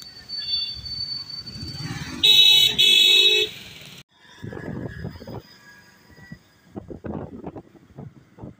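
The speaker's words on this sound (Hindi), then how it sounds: "तो गाइस आगे ट्रैफिक ही ट्रैफिक है।" Car horns sound in heavy road traffic: a loud, sustained honk blares for about a second amid engine and street noise, followed by quieter rumbling traffic and someone talking.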